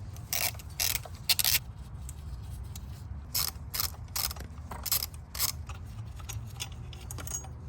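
A ratchet clicks in quick bursts of rapid strokes, close and crisp, as bolts are loosened on a BMW E46 330i/325i thermostat housing, with short pauses between each run of clicks.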